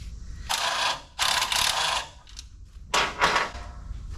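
A wrench ratchets in short, clicking bursts while a bolt is loosened on an LS 6.0 engine mount in a 1986 Chevrolet C20 Suburban. Three bursts come up close, with quiet gaps between them.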